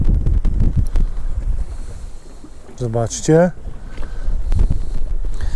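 Steady wind buffets the microphone in a low rumble throughout while jig fishing outdoors, with a brief spoken word partway through over the blustery noise.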